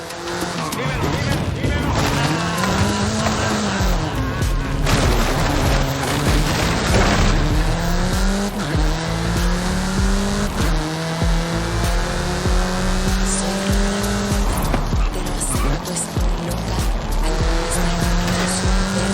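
A car accelerating hard in the Forza Horizon 5 racing game, its engine revving through gear changes while the tires squeal and skid almost continuously; people talk over the engine.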